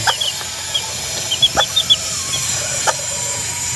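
Pure JBK chickens and chicks in a backyard setting, with soft short clucks and high peeping calls scattered throughout, fairly close, over a faint steady background hum and no talking.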